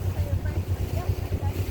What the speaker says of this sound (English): so it's pretty windy